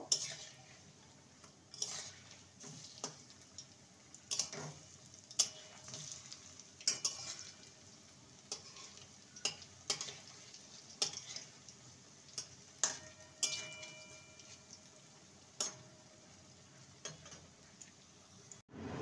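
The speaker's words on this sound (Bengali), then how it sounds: "এবার পকোড়াগুলোকে উল্টে দেব।" Cauliflower and potato pakoras flipped in hot oil: a faint, quiet sizzle broken by scattered sharp ticks and clinks of the utensil against the pan.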